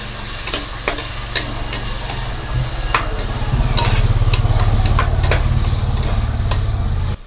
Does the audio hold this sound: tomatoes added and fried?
yes